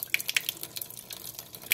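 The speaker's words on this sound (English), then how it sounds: "you start to wash off your rice" Rice stirred and rinsed by hand in a pot of water, giving soft irregular drips, sloshes and small splashes, quiet and close.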